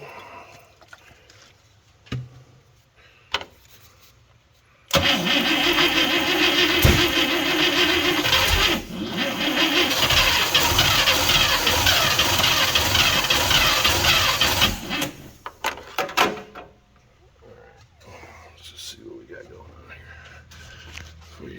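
Engine of a 1971 International Travelall 1210, revived after 22 years, turns over and runs loudly for about ten seconds, then cuts out; a broadband roar with some sputtering, followed by quieter clatter and talk.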